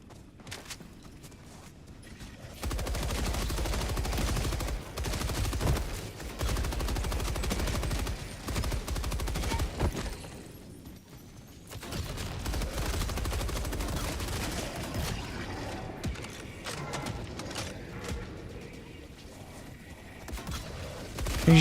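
Machine gun sentry firing in the video game Helldivers 2, sustained rattling automatic gunfire in long loud bursts with brief pauses between, heavy and close amid game combat noise.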